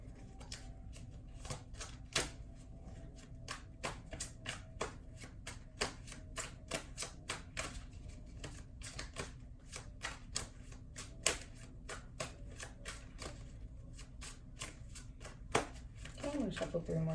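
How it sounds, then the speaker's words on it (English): Tarot cards being shuffled during a reading, a steady run of soft, quick riffling snaps that continue for many seconds at close range, with a faint background hum and a short burst of talk near the end. "So I'm going to go ahead and shuffle again."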